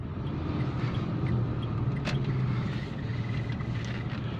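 A car is driven along a road during a driving lesson, giving a continuous low engine hum and road rumble with a brief sharp click partway through, and no one speaking.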